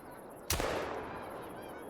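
A single sharp hunting-rifle shot firing 20-gauge ammunition during duck and goose hunting in TheHunter: Call of the Wild, loud and sudden, trailing off into a decaying echo with faint ambient background.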